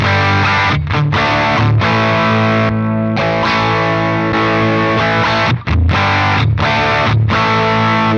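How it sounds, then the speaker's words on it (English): Loud, sustained electric guitar through an MXR Sugar Drive overdrive pedal pushing the amp, thick and saturated chords ringing continuously with brief gaps between strums. "It's really pushing the front of that amp now into just glorious overdrive."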